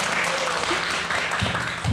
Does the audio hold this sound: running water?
no